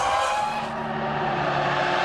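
Formula 1 cars on slick tyres racing at Hockenheim in the 2000 German Grand Prix, a steady loud high-pitched engine drone with no breaks across the whole stretch and no voices.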